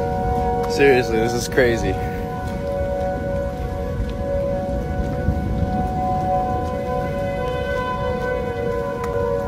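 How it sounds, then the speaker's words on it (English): Several neighborhood tornado sirens wail at once, blending into a sustained, layered chord of steady tones over a constant hissing wash, while a person speaks briefly near the start. "all the tornado sirens in my neighborhood accidentally harmonized"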